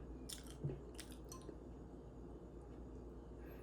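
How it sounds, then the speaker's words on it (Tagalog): Someone eats miswa noodle soup, with soft close chewing, a faint clink of a spoon against a bowl and quiet sipping of broth over low background hum, with no talk. "Tapos sabayan natin ng higop ng sabaw, ng miswa"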